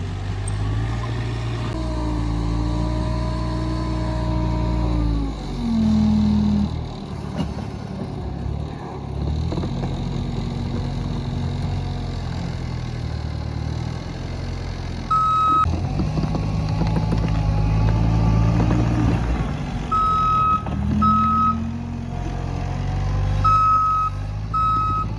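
A Bobcat skid steer loader working while clearing a homesite, its diesel engine rumbling loudly and revving up and down close by, with intermittent high electronic reversing beeps sounding in short repeated bursts.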